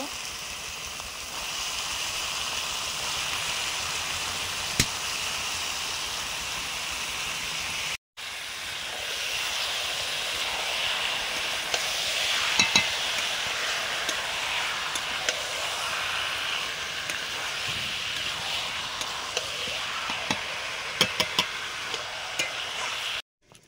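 Meat drops into a hot pan and sizzles with a dense, steady hiss that carries on loudly, broken by a brief cut and a few small clicks of stirring.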